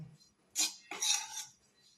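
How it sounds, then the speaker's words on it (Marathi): Grated coconut stirred in a pan while it roasts for karanji filling, giving two short scraping, clinking bursts of utensil against metal, fairly quiet, with no voice. "एकसारखं आपण त्याला खोबऱ्याला हलवत राहायचं म्हणजे खाली जळणार नाही"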